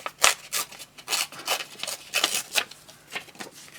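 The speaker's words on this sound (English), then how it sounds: "Let me rip this and rip that side." Patterned paper torn from a paper pad during card making, a series of close, rough ripping and rustling strokes in uneven bursts, with no talking.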